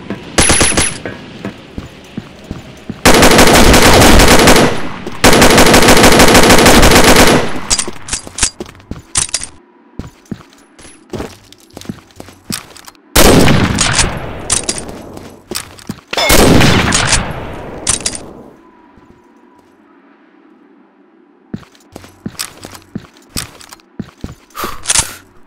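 Bursts of rapid automatic gunfire, loud and close, coming in several long sustained volleys separated by sparser single shots, clicks and scraping.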